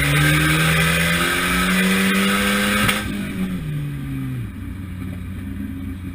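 Volvo 740 turbo drift car heard from inside the cabin, its engine droning loud under hard acceleration, pitch climbing through a gear pull before the revs drop sharply and the note falls away to a lower rumble.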